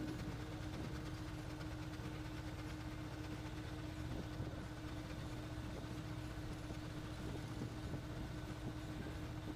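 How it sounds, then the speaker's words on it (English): A gunite mixing auger machine runs continuously as it carries material up an incline, producing a steady mechanical drone with a constant hum and faint rattling, moderately quiet and unchanging throughout. "The auger thoroughly mixes them on the way up the incline under Joe's careful guidance."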